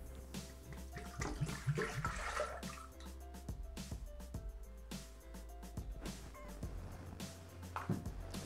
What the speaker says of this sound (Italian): Iniziamo la ricetta versando all'interno del boccale il latte.